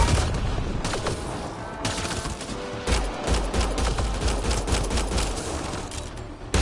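Sustained gunfire in the Mass Effect Andromeda video game, a dense stream of rapid shots and bursts that runs the full length of the clip with no talking.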